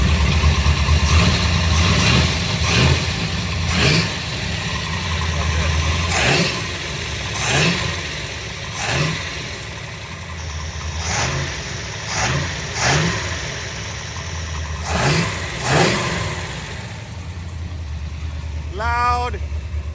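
Big block engine in a 1965 Shelby Cobra with a carburetor and a suspect choke, revving in repeated swells over a rough idle, loud and close, with voices talking over parts of it.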